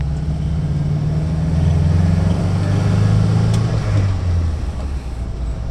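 A 1965 right-hand-drive Nissan Cedric, sold new in Australia, drives along a road with a steady engine drone and a slightly offbeat note, its pitch rising and falling gently over continuous road and wind noise.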